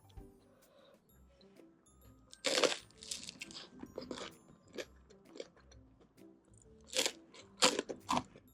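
Crisp crunching bites into warmed crispy bread, a sandwich with a crunchy outside and moist inside, come in a few loud bursts with quieter chewing between, close up, with no talk.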